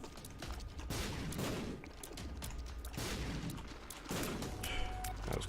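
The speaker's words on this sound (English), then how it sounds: "Lots of explosions." Video game combat rattles with rapid bursts of gunfire and booming explosions, a dense, loud fusillade of overlapping shots and blasts without pause.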